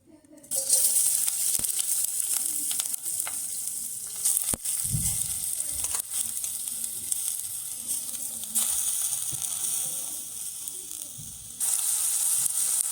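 Soaked rice sizzles steadily in hot ghee, with a loud continuous frying hiss and occasional stirring clinks and scrapes.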